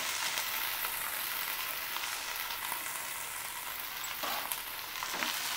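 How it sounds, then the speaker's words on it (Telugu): Cut okra pieces frying in hot oil in a pan, a continuous bright sizzle with occasional crackles and light stirring scrapes, close and steady. "ఆయిల్ వేడెక్కిన తర్వాత ముందుగా మనం కట్ చేసి పెట్టుకున్న ఈ బెండకాయ ముక్కలన్నీ వేసేసుకోవాలి."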